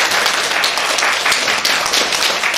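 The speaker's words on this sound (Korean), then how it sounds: "뜨거운 박수로 환영해 주시기 바랍니다" Warm audience applause welcomes a lecturer at a Catholic social teaching school talk, many hands clapping steadily and fairly close for the whole stretch, with no voices on top.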